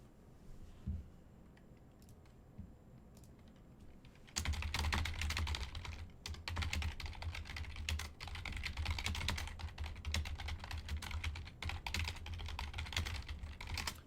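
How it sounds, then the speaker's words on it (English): Rapid typing on a computer keyboard, close and fairly quiet, with fast irregular key clicks running continuously after a short quiet stretch. "That typing was me messaging my art guy to say, hey, get me a banner for this one."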